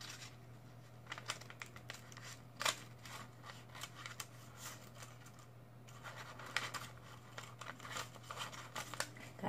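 Scissors snip and rustle through mask material in quick close bursts, with crinkling handling noise and a steady low hum beneath.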